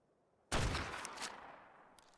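Gunfire from a rider mounted on a Bloodstalker in the ARK: Genesis video game, a sudden loud burst of shots that trails off into a fading rumble, with a faint extra crack near the end.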